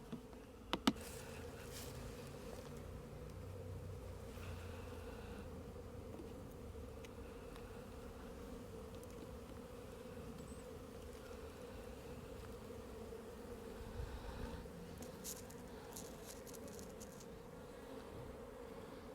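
A soft, continuous drone of many honey bees buzzing in an open hive during an inspection, steady and quiet throughout, with a few faint clicks and knocks now and then.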